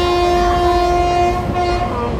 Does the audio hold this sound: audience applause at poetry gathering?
no